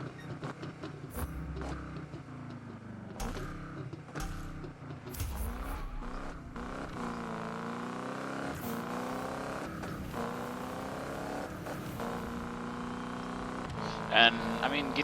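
Hot rod car engine revving in a Need for Speed drag racing game, a rough, rising and falling engine drone with gear-shift breaks and clunks; a person talks over it partway through.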